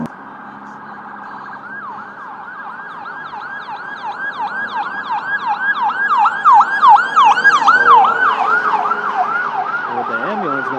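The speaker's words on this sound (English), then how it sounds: "With the ambulance going by," An ambulance siren wails in a fast repeating yelp, growing louder as it approaches and passes close by, then fading slightly at the end.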